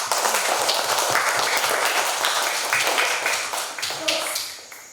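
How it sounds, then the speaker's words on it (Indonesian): Students in a classroom clap loudly together for a presenting group, a dense burst of close clapping that holds steady before tapering slightly at the end. "Tepuk tangan untuk kelompok yang keempat."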